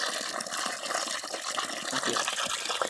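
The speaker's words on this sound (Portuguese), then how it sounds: "Tá enchendo um balde desse d'água. É de 10 litros." Water from a well pump pours steadily into a 10-litre bucket, a continuous close splashing gush with no talk over it.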